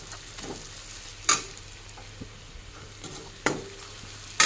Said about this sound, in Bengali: ভালো করে মিশিয়ে নিই।